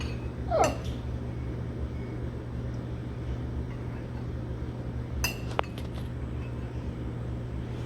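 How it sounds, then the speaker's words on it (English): A spoon fishing seeds out of freshly squeezed lemon juice, giving two separate bright clinks against the dish a few seconds apart over a low, steady room hum. "we're gonna take a spoon and we're gonna get them seeds out before we add it to our bowl"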